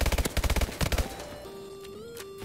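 Rapid bursts of submachine gun and assault rifle fire in a Call of Duty: Advanced Warfare match, loud close rattling volleys in the first second, then tapering into electronic game tones.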